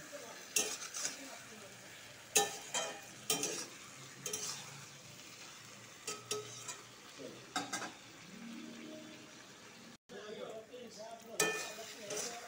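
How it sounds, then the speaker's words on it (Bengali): Tomatoes frying and being stirred in a pan for a Bengali prawn and potato curry: faint sizzling under sharp clinks and scrapes of a spoon against the pan, in irregular bursts, close but quiet. "এখন ভালো করে আবার ভাজবো"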